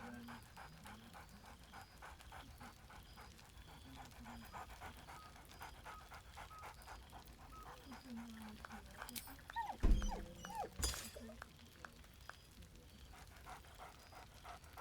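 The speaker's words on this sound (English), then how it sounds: "Scratch barks merrily in something like agreement." A dog in the video game Baldur's Gate 3 pants rhythmically at close range, with a short bark and thump partway through, under faint game ambience and soft background sounds.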